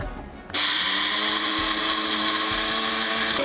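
A mixer grinder starts abruptly and runs at a loud, steady whirring pitch, grinding soaked moong dal into paste, close by and continuous until the end.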